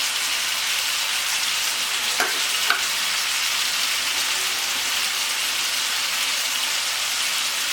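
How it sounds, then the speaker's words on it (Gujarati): Peas stirred into eggplant and valor beans sautéing in oil with cumin, a continuous close sizzle with a couple of brief spoon clinks, no voices. "વટાણા ઉમેરી અને આપણે હલાવી લેવાનું છે"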